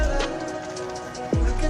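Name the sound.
rain falling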